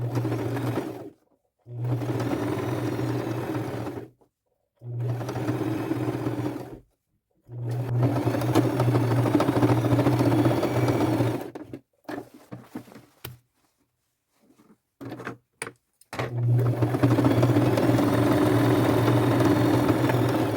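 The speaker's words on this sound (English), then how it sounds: "I am going to go around those with a zigzag stitch just to secure this piece of fabric to the jeans." A sewing machine stitches a zigzag around a fabric patch on jeans. Loud, close, whirring bursts of a few seconds each stop and start, with a cluster of short jabs in the middle before a final long run.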